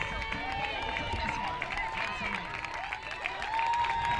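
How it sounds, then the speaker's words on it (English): Applause for a runner finishing strongly over the final 100 meters of a race, a steady crowd clapping throughout under continuous commentary. "warm round of applause"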